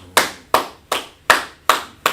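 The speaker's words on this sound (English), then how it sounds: "I'll go ahead and clap it up for that one" Six sharp hand claps spaced about evenly, a little under half a second apart, close and fairly loud with quick decays and no talking.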